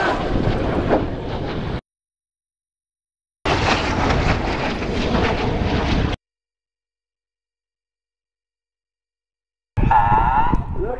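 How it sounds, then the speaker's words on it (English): Red Arrows jet aircraft fly low overhead: loud, broad roaring bursts cut in and out in three separate passes, with a commentator's voice over the public address. "These four aircraft now start their descent to just 100 feet."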